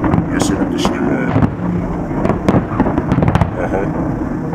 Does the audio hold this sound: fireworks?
yes